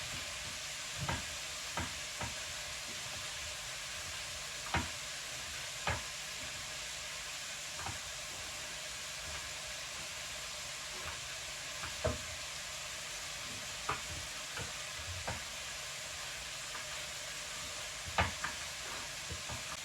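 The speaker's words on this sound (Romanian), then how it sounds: "am pus aici ardei ceapa usturoiul la călin" Peppers, onion and garlic sautéing in a pan during a hot-day stew cook, a steady hissing sizzle throughout with scattered light clicks and stir taps, moderately quiet, no voices.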